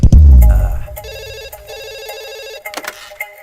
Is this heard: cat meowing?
no